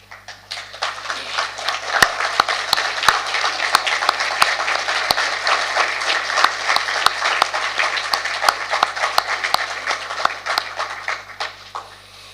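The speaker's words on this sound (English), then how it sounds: "give the TLDC and the organizing committee a well-deserved round of applause" Audience at a university conference stands and applauds the organizing committee, a dense, steady round of clapping with sharp individual claps standing out, sustained evenly for about twelve seconds with no voices over it.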